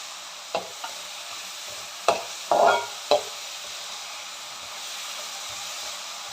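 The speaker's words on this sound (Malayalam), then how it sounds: "ഇതിലേക്ക് കറിവേപ്പില ഇട്ട് കൊടുക്കാം ഇതിലേക്ക് ആവശ്യത്തിനുള്ള ഉപ്പിട്ട് കൊടുക്കാം" Curry leaves and salt frying with onions in a pan for chicken masala, giving soft stirring scrapes and brief sizzling bursts at a steady low background, no talking.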